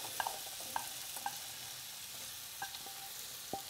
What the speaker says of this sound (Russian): отправляем сюда картошечку. Видите, она сразу должна шипеть,